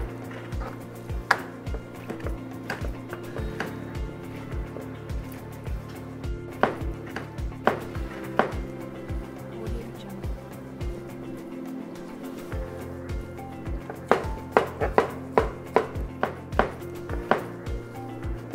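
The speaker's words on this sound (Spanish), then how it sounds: "Cogemos los filetes que hemos cortado y con un cuchillo bien afilado los vamos cortando" Sharp knife chopping meat fillets into tartare on a board, a steady run of crisp close knocks with quicker bursts near the end, alone without talk.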